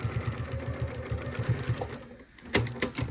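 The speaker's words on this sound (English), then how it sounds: "So I'm not quite stitching right on the edge, but I'm getting awfully close." A sewing machine stitches close to the edge of a table runner in a fast, steady run of motor-driven stitches up close, which pauses briefly near the end and then starts again.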